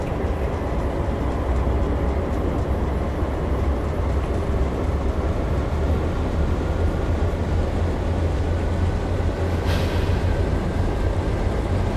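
Rear remote locomotive of a freight train powering up in the Open Rails train simulator, a steady, loud low diesel rumble and rail roar running throughout, with a brief higher hiss near the end.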